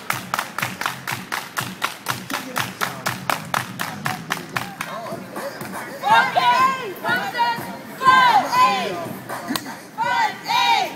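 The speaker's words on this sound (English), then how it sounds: "Everybody clap your hands." A flash mob crowd at an AIDS awareness event claps hands in a steady, loud unison rhythm, then the beat breaks into music and crowd chatter with voices singing and calling out.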